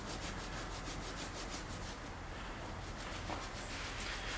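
Sanding a part from the engine of a 1971 John Deere 140 H3 during a rebuild: a close, steady, continuous rhythmic rubbing rasp with no voices.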